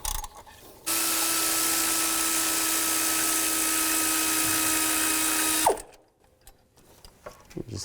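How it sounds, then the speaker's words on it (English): A power tool with a 14mm socket whirs steadily for about five seconds, close and loud, removing the tensioner bolt on a Nissan Xterra, then winds down into quiet clicks and handling. "Take a 14mm socket, take this bolt out."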